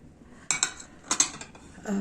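Antique Rosenthal porcelain dinnerware, a large gilded plate about a century old, clinks against other pieces as it is handled, giving a few bright, close ceramic taps in quick pairs, then a soft rustle.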